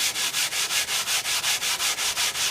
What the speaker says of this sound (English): And that goes for lapping your balsa as well as lapping your stones.